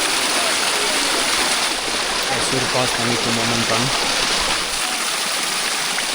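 Rushing stream water and a nearby waterfall in Chiang Mai, Thailand, a steady broadband roar filling the whole clip while a person speaks briefly over it.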